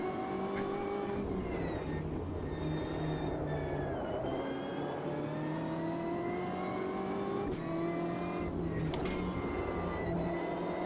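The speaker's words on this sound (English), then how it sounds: "we did not need to downshift there, but yeah, we did it anyway" BMW M8 GTE race car at Laguna Seca in the racing game Automobilista 2, its engine droning steadily with several abrupt jumps in pitch as gears change, loud and continuous throughout.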